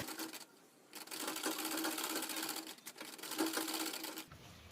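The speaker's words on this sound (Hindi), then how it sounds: "यहाँ से इसी तरह से सिलाई करनी है" A sewing machine runs in steady, close bursts of rapid stitching with brief pauses between, sewing a fabric lunch bag made from leftover cloth.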